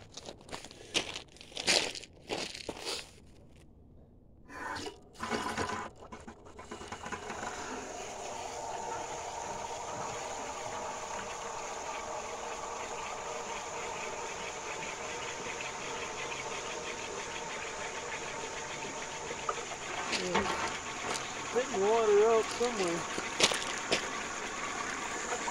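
A homemade rotating flow turbine runs on garden hose water, giving a steady whirring hum with water rushing and spattering underneath, preceded by a few handling clunks and rustles.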